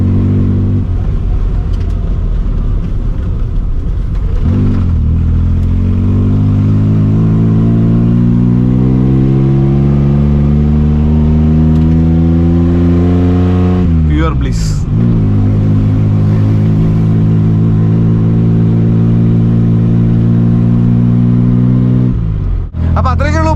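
An old Maruti 800 car engine revs up through the gears, its drone rising steadily in pitch, dropping at each gear change around five and fifteen seconds, loud and close, with someone talking over it.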